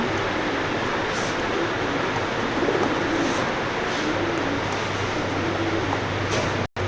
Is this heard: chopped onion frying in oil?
no